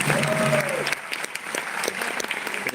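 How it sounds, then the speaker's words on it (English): Audience applause at a Founders Day celebration, a dense sustained clapping from a large crowd that stays steady and moderately loud throughout, with a brief voice early on. "Let's give them a huge round of applause."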